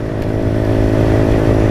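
A Motrac M5, a small Chinese Honda Grom clone motorcycle, idles loudly up close with a steady, throbbing engine drone that rises slightly as it revs.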